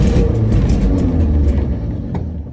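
A 1957 Chevy barn-find car engine revs hard and loud up close, running rough with too much choke in a steady throaty roar that eases slightly at the end.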